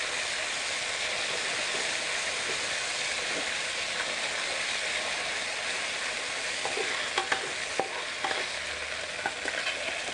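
Shrimp paste with shallots being stir-fried over low heat, a steady soft sizzle with scraping stir strokes and small ticks throughout, close and even.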